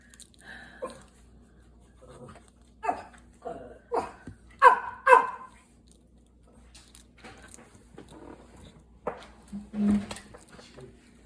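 Dogs bark in a few short clustered bursts, sharp and moderately faint, with quieter gaps and small household noises between them.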